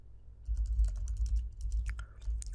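Quick, light keystrokes patter on a computer keyboard in an irregular burst of clicks, close and fairly quiet, with no talking.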